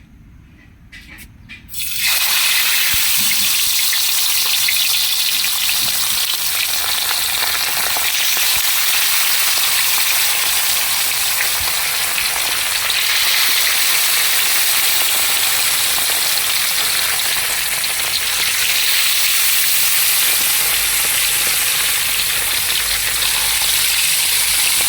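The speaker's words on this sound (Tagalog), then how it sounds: "Painitin na muna natin yung mantika mga master bago natin ihulog yung dalag para hindi dumikit." Mudfish (dalag) frying in hot cooking oil, a loud, dense, continuous sizzle that bursts in after a quiet couple of seconds and roars steadily to the end.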